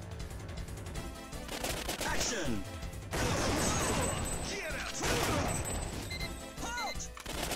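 Gunfire in the Time Crisis arcade shooter comes as rapid, loud bursts and single shots over dense game music and effects, with in-game voices shouting between the volleys.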